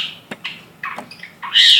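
A pet bird squawks in a few short, sharp bursts, ending in a loud, harsh cry close by indoors, with no talking.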